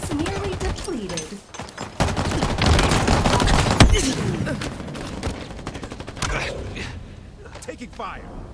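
Halo Infinite combat gunfire: rapid automatic bursts and sharp single shots mixed with mechanical clanks, loud and close, under spoken voices.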